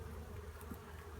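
Honeybees hum in a low, steady, faint drone during a hive inspection, a brief continuous buzz with no voices.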